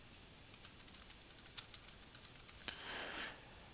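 Quick, light typing on a computer keyboard, a rapid run of close, crisp key clicks ending in a short soft rustle.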